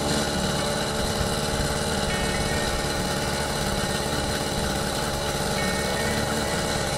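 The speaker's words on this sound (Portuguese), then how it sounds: "E agora, praticamente, ela tem um som realmente dessa bicicleta motorizada." A motorized bicycle engine fitted with a new exhaust runs steadily at idle, a continuous close, loud mid-pitched drone with a buzzy rattle and no speech over it.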